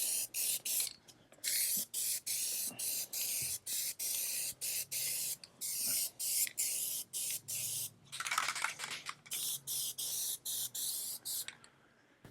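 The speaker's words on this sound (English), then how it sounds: "you start spraying your first couple of coats of gunmetal gray through the gun" Spray gun laying down coats of gunmetal gray automotive paint along a car body seam and under the mirrors, a steady close hiss in repeated bursts with brief gaps between passes, no talking.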